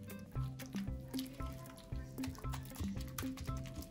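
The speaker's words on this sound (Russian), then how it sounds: "Теперь добавляю яйцо и опять же слегка вымешиваю." Soft, wet squishing and sticky slapping as an egg is worked into dough for cheese buns, a close, quiet rhythmic kneading with small liquid squelches repeating throughout.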